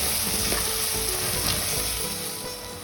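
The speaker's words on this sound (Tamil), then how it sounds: "ஒரு கையளவுக்கு புதினாவும் கொத்தமல்லி கொஞ்சம் ஆட் பண்ணிட்டு நல்லா மிக்ஸ் பண்ணி விட்டுருப்போம்" Biryani masala sizzling steadily in a pan as a handful of mint and some coriander are stirred in, with close, even frying hiss and occasional soft stirring scrapes.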